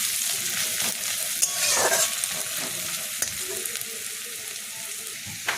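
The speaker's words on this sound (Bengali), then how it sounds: "রসুনটা একটু ভাজা হোক" Garlic paste frying with browned onions in a pan for muri ghonto, a continuous close sizzle broken by spatula scrapes and occasional knocks against the pan.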